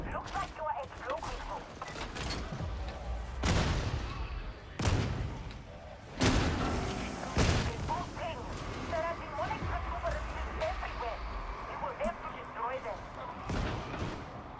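Bolter gunfire in Warhammer 40,000: Darktide, heavy booming shots spaced a second or so apart over dense in-game battle noise, with a voice talking throughout.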